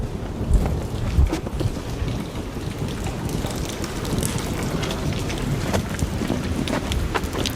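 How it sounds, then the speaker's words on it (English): Steady rain falls outdoors at night, a dense hiss with scattered drops and gusts of wind on the mic, continuous throughout. "that was raining a little bit harder than I thought it was"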